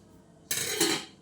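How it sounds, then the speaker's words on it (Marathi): A brief burst of clattering dishes and splashing water, close by, lasting under a second after quiet. "दुपारची जी भांडी आहे ती घासते"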